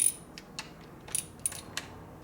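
Screws are backed out on a Harley Sportster motorcycle, a series of faint metallic ticks and small clicking creaks spaced irregularly, close and quiet against a low background hum.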